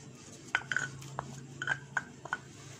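Sliced onion frying in olive oil is stirred in a pan, giving quiet, scattered clinks and scrapes of a utensil against the metal over a soft, steady sizzle.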